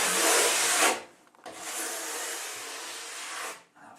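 A brass brush scrubs a snowboard base in two hard, close rasping strokes, separated by a short pause, each a dense broadband scratch, with no talking.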